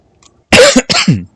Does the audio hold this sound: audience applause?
no